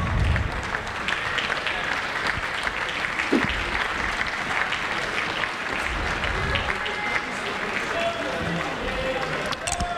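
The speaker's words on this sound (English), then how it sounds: "Please bring them on with your applause" A ballroom crowd at a national DanceSport championship applauds steadily and loudly as competing dance couples take the floor, a dense wash of clapping with some cheers, sustained for the whole stretch.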